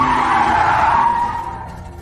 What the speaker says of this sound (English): I hit the brakes and scanned my surroundings.